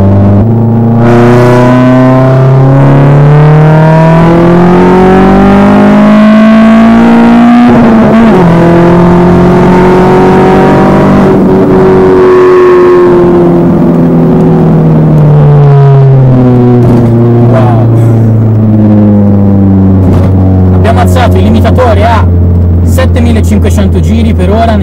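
A car engine under test with a raised rev limit climbs and falls through long revving sweeps, loud and close, with changing pitch as it accelerates, eases off and climbs again before settling to a steady drone.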